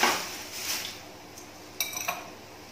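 Fried crab sticks are poured into a paper-lined basin, giving a light, crisp rustling pour followed by a few small clinks of utensils, close and brief.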